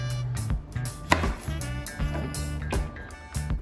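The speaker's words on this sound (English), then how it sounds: "I'm gonna chop off the end and then just throw it into the blender." A knife chops through a garlic clove on a cutting board in quick, uneven strokes, several sharp close taps against a low background hum.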